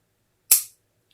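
A Hinderer XM-24 folding knife's detent gives a single sharp, crisp snap as the blade flicks, a close, bright click that dies away almost instantly in otherwise quiet surroundings.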